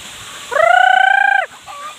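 A single loud, drawn-out fowl call rises and holds for about a second before a short softer call follows, close by on a hillside farm where ducks and chickens are kept, with no talking.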